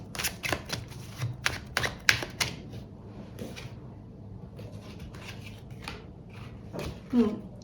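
Tarot cards being shuffled and drawn, giving crisp papery snaps and riffling clicks in quick clustered bursts early on, then sparser single flicks, close and moderately quiet.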